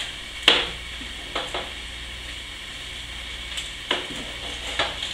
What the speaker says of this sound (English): we're going to take everything that we've got here, and we're going to throw it in the pot